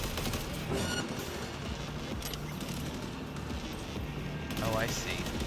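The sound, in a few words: gunfire in the video game Cyberpunk 2077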